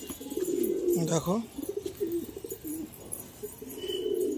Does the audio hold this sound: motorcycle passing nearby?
no